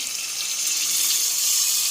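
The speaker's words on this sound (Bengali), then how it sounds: "তারপর এখানে আমি দিয়ে দেবো পানি।" Water pours steadily into a pot of beef roast cooked with homemade spices, a continuous close splashing stream with no talking.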